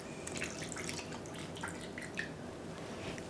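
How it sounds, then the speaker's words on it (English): Cognac poured into a pan holding beef fillet and chunks of onion. Soft drips and light liquid trickles run quietly throughout, then a sharp, louder splash hits at the very end. "I'm going to add my cognac"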